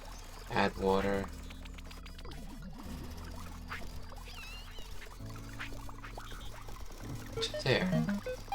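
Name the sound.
water poured from a bucket in Autonauts video game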